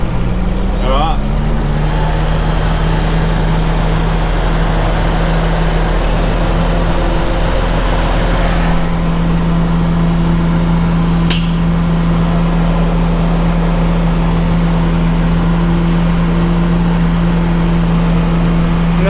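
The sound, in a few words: army fire truck pump engine being revved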